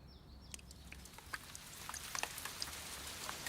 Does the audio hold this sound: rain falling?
yes